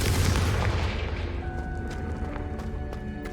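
A Confringo fire spell from Hogwarts Legacy lands as a loud, booming blast with a heavy low-end burst at the start, then fades into a ringing, crackling tail over the rest of the moment. No voices are heard.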